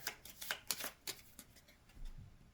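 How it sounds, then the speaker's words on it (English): Brisk riffle-shuffling of a deck of cards for a Skyrim adventure board game, a rapid flurry of crisp papery flicks, close and fairly quiet, with no voices. "So shuffle up the human deck here."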